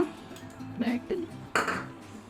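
A metal kadai pan is set down and handled on the stove before ghee goes in for suji halwa, giving a few short clanks and scrapes in quick succession with faint voice in the background.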